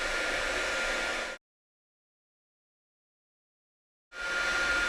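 Bauer 20V cordless heat gun blowing a steady, loud broadband hiss that cuts out abruptly for about three seconds, then resumes; used to heat and remove labels from tools.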